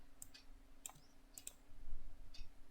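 In simulation software on a computer, a mouse gives a few sharp, faint clicks, two or three clustered and spaced apart, over a quiet background hum.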